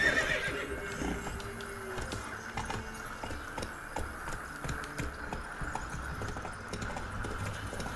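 Roach, the horse in The Witcher 3: Wild Hunt, neighs in game audio, a brief whinny near the start followed by a steady background of hoofbeats and game ambience, with no talking.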